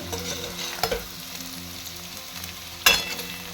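Mutton fat frying in its own rendered oil in a pan, a steady close sizzle with two brief scraping stirs of a spatula.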